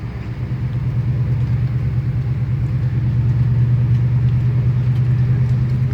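A 1975 Chevy C10 Silverado pickup engine drives through a neighborhood, a steady, loud, low rumble that holds even throughout and swells slightly as it goes.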